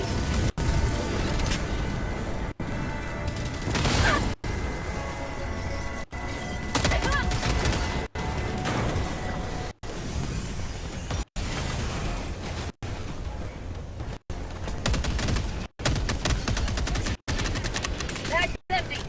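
Orbital strike explosions and heavy gunfire in a video game, a dense, continuous barrage of shots and blasts running throughout with talk over the top.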